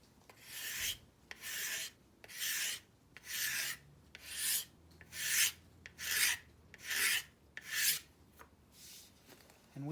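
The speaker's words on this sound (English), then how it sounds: "you can feel the blade of the scraper working into the wood" A steel scraper shaves wood on a large carved wooden spoon in about nine even, rasping strokes, each a close, bright scrape separated by short pauses.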